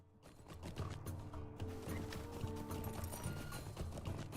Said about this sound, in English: Horse sitting there going, complaining.